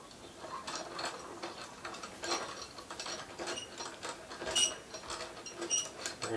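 A ratcheting crank mechanism is wound back to reload for firing another chunk of 3/8 inch steel, giving a close, continuous run of rapid metallic clicks and gear ticks with no voices.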